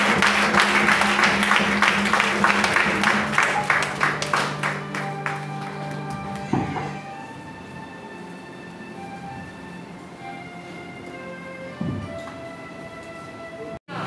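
A church congregation at an annual celebration service applauds to acclaim the Lord, a dense, loud burst of clapping that thins out after about six seconds and leaves a quiet room hum with a couple of soft knocks.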